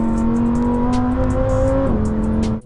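Lamborghini Huracán STO prototype on a race track, its engine holding a loud, steady high-revving note close by, then briefly dipping as it shifts near the end, with no talking.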